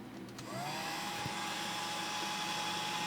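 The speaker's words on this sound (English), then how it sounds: "I'm using a Wagoner heat gun." A steady, loud airflow roar from a Wagner heat gun blowing, with a motor whine rising as it starts and then holding constant.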